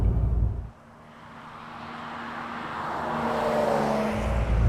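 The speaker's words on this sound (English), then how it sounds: "there's a little bit of exhaust noise" A 2020 Porsche 911 Carrera 4S's exhaust drones as the engine climbs steadily in pitch under acceleration, loud and close, with the note dropping away briefly near the start.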